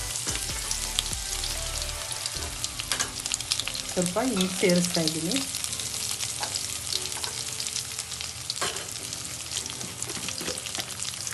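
Crushed garlic and dried chillies sizzle steadily in hot oil for masoor dal tempering, a dense continuous frying crackle with stirring clinks; someone speaks briefly over it.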